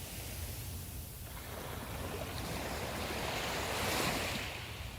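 Calm sea waves at Playa Delfines in Cancún, a soft continuous wash of surf with a gentle swell rising and fading, steady and moderately quiet with light wind noise.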